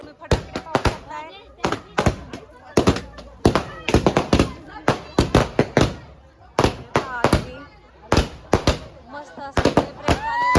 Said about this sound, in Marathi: तुम्ही फटाके पाहू शकताय.